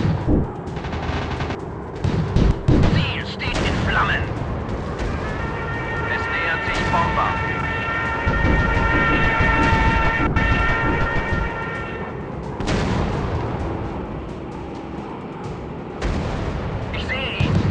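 Messerschmitt Me 262 in a video game firing 30mm cannons and rockets, with dense bursts of gunfire and booming blasts against a constant rumbling engine drone, while a voice speaks intermittently over it.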